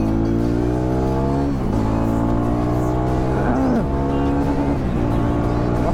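A Jawa 42 Bobber motorcycle ridden at full throttle on an open road, its engine roaring loud and steady with repeated rises in pitch as it accelerates through the gears, no talk over it.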